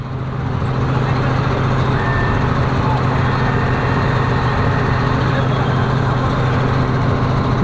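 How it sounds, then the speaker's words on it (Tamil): A paddy harvester backs up with its heavy engine droning loudly and steadily up close, with a thin tonal whine over the continuous machine noise. "ரிவர்ஸ் கொஞ்சம் டக்குன்னு போயிடுது வண்டி."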